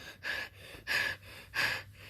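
Voice imitates a cartoon character panting, with three breathy, rhythmic gasps spaced evenly and quietly close to the microphone.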